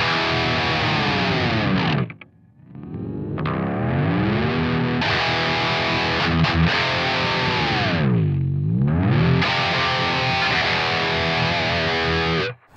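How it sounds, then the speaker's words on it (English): A distorted electric guitar with a Floyd Rose tremolo on an Aristides 0-Series guitar plays loud sustained notes, then repeatedly dives the pitch down and pulls it back up, with a short near-silent break in the middle. "I could dive bomb and show you what I'm talking about here."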